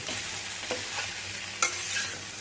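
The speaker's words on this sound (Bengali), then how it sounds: "ভালো করে নেড়ে আমি ঢেকে রেখে দেবো।" Mixed vegetables stirred in a hot frying pan, a continuous soft sizzle with a few scraping clicks of the spoon, one sharper knock near the end, close and steady with no talking.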